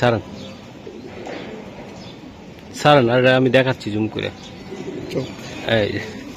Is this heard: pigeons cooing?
yes